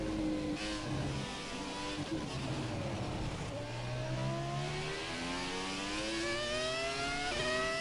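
Open-wheel F1 car engine in the F1 2017 racing game on a Canada time-trial lap, a loud continuous high-pitched whine rising and falling through gear changes, steady and close throughout.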